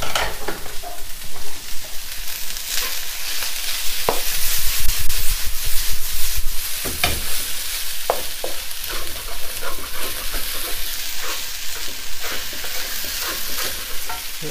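Fried rice with scrambled egg and roast pork is stir-fried in a hot wok, a loud continuous sizzle with scraping, tossing strokes throughout and no talking.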